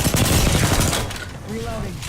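Rapid gunfire in the Apex Legends video game, a dense, loud, continuous burst that cuts off after about a second, leaving quieter game noise with a brief faint tonal blip.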